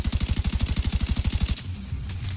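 Rapid automatic gunfire in The Division 2 hammers out in an even, fast burst of shots for about a second and a half, then cuts to quieter game ambience.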